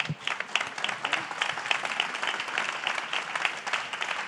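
A conference audience applauds its three speakers steadily, a dense wash of clapping that holds at an even level throughout.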